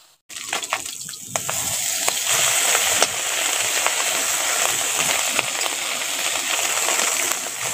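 Pieces of sea fish (morol) fry in oil while being stirred, a loud continuous sizzle with scraping and clicking of the utensil, starting abruptly and holding steady throughout.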